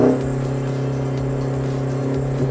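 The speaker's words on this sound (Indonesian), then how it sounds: "Dan suara knalpotnya juga tidak berisik dan mobil lebih bertenaga dan lebih responsif." Offroad car fitted with a Japanese HKS exhaust, engine running at a steady, loud, close idle-to-mid rev with a constant low hum and a slight lift near the end, no talk.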